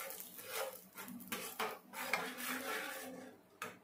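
Garam masala, chilli powder and salt fry in hot oil while a metal spoon scrapes and clinks against the pan in uneven strokes. A soft sizzle sits underneath, close and quiet, and no one speaks.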